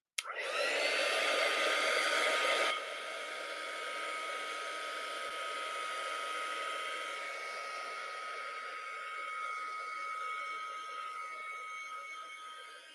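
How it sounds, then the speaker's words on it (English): A heat gun blows air steadily during an art-room ink-spreading session, loud broadband rushing from a sharp start that drops slightly after about three seconds, then holds a constant whir with faint tonal whine, no talk. "We're just going to blow it around with the heat gun and see what it does."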